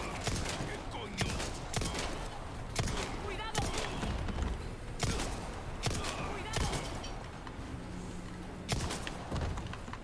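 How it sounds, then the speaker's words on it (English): Gunfire from the Resident Evil 4 video game, a series of sharp loud shots roughly once a second over a dense game soundscape, with a voice talking faintly underneath. "I'm gonna shoot your leg off."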